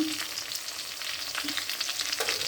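Spice paste sizzles and fries steadily in a pan for a fish curry with cauliflower, flat beans and potato, with brief stirring scrapes over a continuous close crackle.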